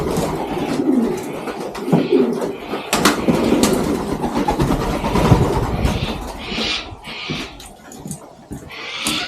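Pigeons, three young birds in a loft in Australia, give soft low coos amid a busy mix of rustling, flapping and background noise, with a few scattered brighter calls.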